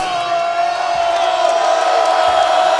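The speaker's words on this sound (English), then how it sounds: "this crowd at Gill Coliseum really got into it, and they're trying to find reason to cheer for the home team" Home basketball crowd at Gill Coliseum during an Oregon State game, a loud, sustained roar of cheering and whooping that fills the arena without a break.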